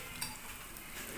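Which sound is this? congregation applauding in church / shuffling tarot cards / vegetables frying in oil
vegetables frying in oil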